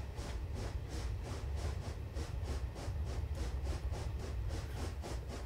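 A narrow gauge steam train on the Welsh Highland Railway climbs a gradient, its exhaust beating in a steady quick rhythm over a continuous rumble, with no talking.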